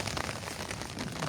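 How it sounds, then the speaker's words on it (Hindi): Steady rain falls on an outdoor cricket ground during a local tournament match, a faint, continuous broadband hiss with no distinct individual drops. "बारिश थोड़ी सी तेज हो चुकी है"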